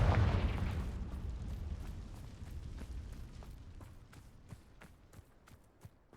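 Confringo blasting spell explosion in a Harry Potter Gryffindor video game, a loud deep boom at the start that decays into crackling debris and scattered pops, with no talk over it.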